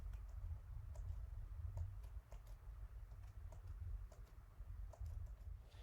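Fingers type a Wi-Fi password on a computer keyboard, producing soft, irregular key clicks spread across the clip over a steady low hum.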